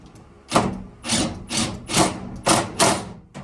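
Several short mechanical bursts from an impact wrench bumping down the fork cap nut on a 2012 Kawasaki KX250F motorcycle fork during seal work, about six quick rattling pulses in a row, close and fairly loud, with no talk.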